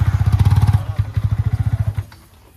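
Yamaha R15 V3 motorcycle engine fires up and revs in a steady, loud pulsing throb close by, settling briefly before a second run of rhythmic revs, with no talk over it.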